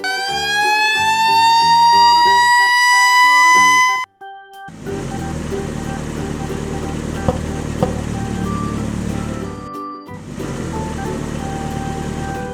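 Red toy fire truck siren: a steady multi-tone electronic wail for about four seconds, loud and alone, followed by a long stretch of busy background music.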